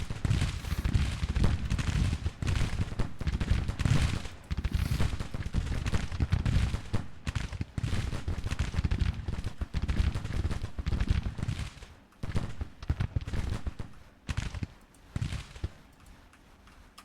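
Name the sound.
gunfire volleys in the video game Grand Tactician: The Civil War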